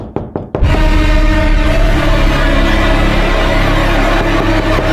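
Knocks on a door at night in a home: three quick, loud raps on the door, followed by a steady drone of background sound with no talking.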